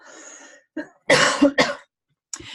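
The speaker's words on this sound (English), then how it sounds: "I'm going to cough again" A few harsh coughs close to the microphone, preceded by a brief throat sound, with short silent gaps between them.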